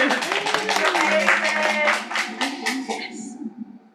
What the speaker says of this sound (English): if you want to give a clap for the art